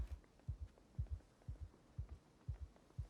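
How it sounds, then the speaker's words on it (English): Heartbeat sound effect from Project Zomboid, a steady lub-dub pulse repeating about twice per second, soft and low, with nothing else over it. "Panic has enough downsides without me needing to hear the heart beating constantly"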